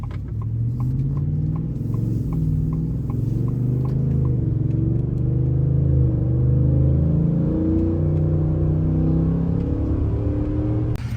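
A 2024 Ford F-150 single cab pickup with an MBRP S5211 cat-back exhaust rumbles deeply as it accelerates, the engine note rising and swelling steadily, close and moderately loud with no voices.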